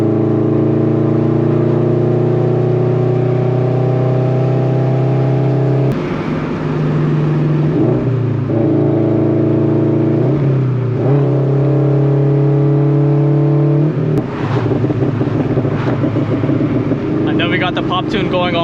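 Heavily modified FRS/BRZ/86 with a pop tune and loud exhaust, heard from inside while driving: a steady droning engine note that dips and rises through shifts, with crackling pops and bangs near the end and a voice talking over it.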